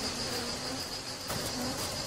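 Swarm of honeybees buzzing as they leave their hive, a dense, continuous high drone with fluctuating wing hum, close and steady.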